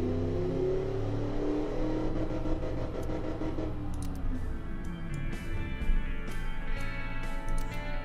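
A 7.0 liter V8 OHV engine for a 1969 muscle car revs in the Automation car-building game. Its tone climbs in pitch, then settles into a high, steady whine with a few sharp clicks and no voices.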